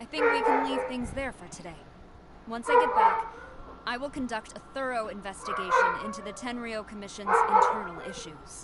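A dog yips and barks in a video game, with sharp, repeated bursts that overlap a calm voice talking throughout.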